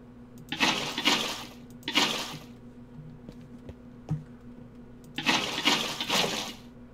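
Water placed in the Minecraft video game, heard as three broad splashing washes of flowing liquid, each lasting about a second, separated by quieter gaps with faint clicks.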